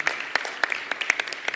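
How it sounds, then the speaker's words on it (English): Audience at a church clergy-laity congress plenary session applauding in a large hall, scattered sharp claps at an uneven pace, moderately close and fairly light, with no voices over them. "We need to applaud the efforts of Leadership 100."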